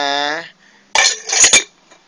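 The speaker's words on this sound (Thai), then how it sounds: "เดี๋ยวลองเอาฝาหม้อมาปิดอีกทีครับ" A metal pot lid is set back onto a pot, giving a bright clatter and a second rattling clink close by, after a short voiced tone and a moment of quiet.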